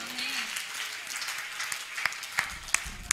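A church congregation claps together during a Tamil sermon, a fairly soft, even patter of hands that thins out, with a few sharper individual claps toward the end.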